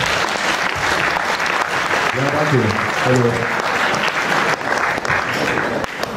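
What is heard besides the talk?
audience applause for a speaker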